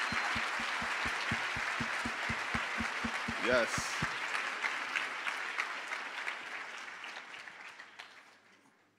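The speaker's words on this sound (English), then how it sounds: "let's hear a round of applause real quick for each other for showing" An audience at a live poetry event claps together in a full round of applause that swells and then gradually thins and fades away, with a brief spoken voice near the start and low rhythmic thumps underneath at first.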